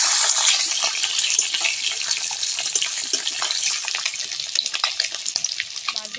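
Pieces of catla fish turned over and frying in mustard oil in a wok, a loud close sizzle that starts strong and eases into uneven crackling and popping.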